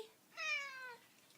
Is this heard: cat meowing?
yes